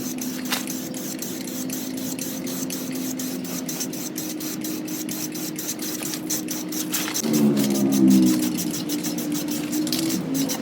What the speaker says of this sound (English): What I'll be using to paint it is semi-gloss black followed by a semi-gloss clear coat.